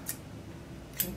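Scissors snip through yarn while finishing a lace knitting-machine piece, two short crisp cuts about a second apart, close and fairly quiet, with no talking.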